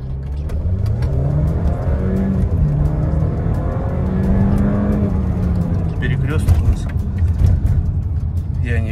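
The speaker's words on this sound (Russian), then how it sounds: "Я не видел, до скольки она разогналась, но разогналась быстро, достаточно." A chip-tuned Mercedes-Benz GLA 180 accelerates hard, its engine note climbing through rising pulls heard loudly from inside the car, with people talking over the engine.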